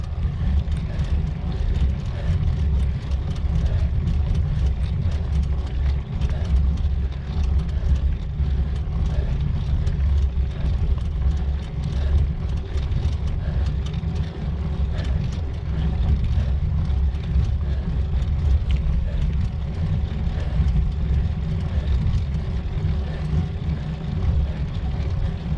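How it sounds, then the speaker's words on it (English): A car idles and creeps along close behind a cyclist climbing the steep Hardknott Pass, a steady low engine rumble mixed with wind buffeting that holds constant and loud throughout. "I've got a car behind me"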